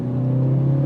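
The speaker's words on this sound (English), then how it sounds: "Giving it some gas from a stop point." A 2021 BMW 330i pulling away from a stop, a steady loud low engine drone with a strong tonal hum, heard from close inside the car for under a second.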